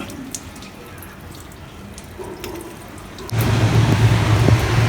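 Water runs from a small tap on a home balcony, with faint trickling at first, then a louder, steady stream gushing in over the last second and a half.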